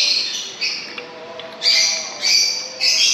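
Birds calling in a parking area, several loud shrill squawking bursts repeating close by over a quiet background.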